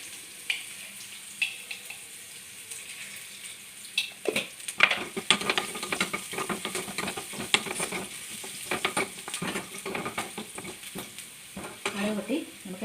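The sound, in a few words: mustard seeds spluttering in hot oil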